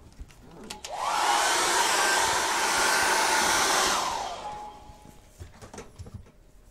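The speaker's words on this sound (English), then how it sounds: "let's go at it again with the hairdryer" A hair dryer switches on and blows with a loud, steady whoosh for about three seconds before winding down, with faint rustles before and after.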